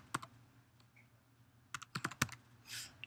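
Keystrokes on a computer keyboard arrive in short bursts, a few quick taps near the start, then a faster run of clicks toward the end, close and fairly quiet with no talking.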